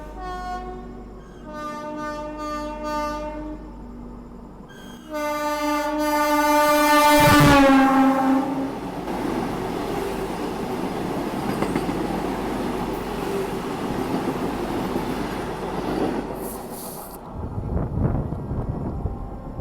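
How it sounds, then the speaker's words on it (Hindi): The Amritsar Vande Bharat train passes close by and overtakes, a loud horn blast ringing out before a sustained roar of rushing rail cars that slowly fades as it pulls away. "और ये ओवरटेक करी अपनी अमृतसर वंदे भारत"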